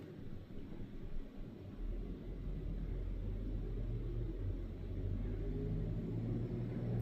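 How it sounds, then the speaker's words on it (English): A vehicle passes at a distance, its low engine rumble swelling into a steady drone that holds and rises slightly, muffled with faint outdoor wind noise. "There's a vehicle."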